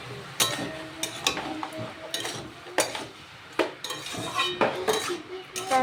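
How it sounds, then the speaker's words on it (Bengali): A metal spoon scrapes and clinks against a pan while hilsa posto is stirred, giving irregular close knocks and rattles, ending with the clatter of a lid going on. "এবার এটাকে নাড়াচাড়া করে ঢাকা দিয়ে দিতে হবে"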